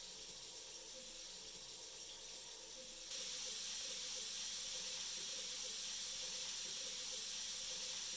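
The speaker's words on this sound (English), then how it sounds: "Now let's test it with the water booster pump to see how the reading changes." A water booster pump running with a faucet open, making a steady broadband hiss of flowing water that grows brighter and louder partway through and then holds constant, with no talking.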